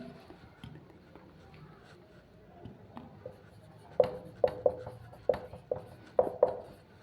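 Chalk or marker strokes on a board during a chemistry lecture, a quiet scratching early on that turns into a run of sharp taps and short scrapes, close by and alone with no talk.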